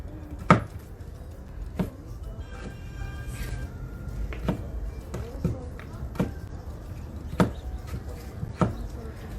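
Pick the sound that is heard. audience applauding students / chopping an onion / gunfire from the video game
chopping an onion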